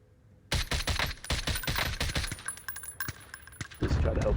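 Rapid bursts of Mac-10 submachine gun fire in the DMR shooter game, a dense rattling series of sharp close shots spread through most of the stretch, with brief gaps and a final louder run.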